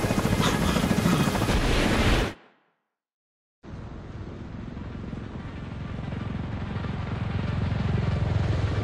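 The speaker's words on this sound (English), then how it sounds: "we need to get Tchernenko on that extraction chopper now" A helicopter in The Division 2 rotor-thumps loudly and steadily, cuts out to silence for about a second, then returns as a constant near roar with no voices.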